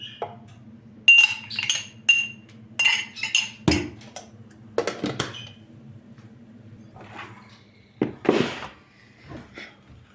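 A spoon stirring tea in a glass, producing repeated bright clinks and rattles in short bursts with pauses between them, close up over a low steady hum.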